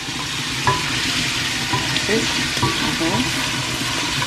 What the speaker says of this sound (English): I'm going to fry my prawns here in vegetable oil